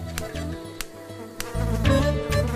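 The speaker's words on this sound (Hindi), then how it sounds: "मच्छरों से संघर्ष कर रहा हूं मैं" Mosquitoes buzz in a thin continuous whine outdoors at midnight, with faint sharp clicks and a low hum beneath, no voices.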